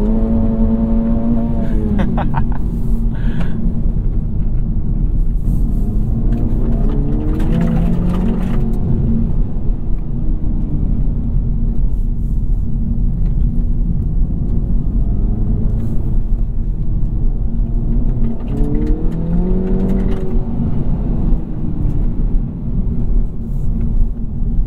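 2024 Acura Integra Type S engine pulling hard in first gear, rising revs that climb and drop between shifts over a constant loud rumble of road and wind noise, close and continuous for the whole stretch.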